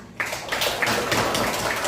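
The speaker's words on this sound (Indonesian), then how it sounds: "kita berikan juga tepuk tangan" Students in a classroom applaud classmates after their presentations, a brief burst of many hands clapping at close range that starts abruptly and keeps up evenly.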